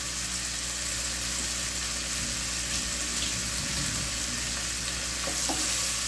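Spiced masala with onion, tomato and salt frying in a pan gives a dense, continuous sizzle at an even level, with a few soft stirring scrapes near the end; no one talks.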